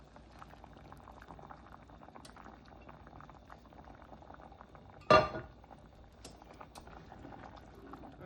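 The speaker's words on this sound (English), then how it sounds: "Let that boil for about 15 minutes so that everything come together nicely" A covered pot of Jamaican rice and peas with black beans bubbles at a gentle simmer, soft steady boiling with faint clinks and one brief louder knock midway.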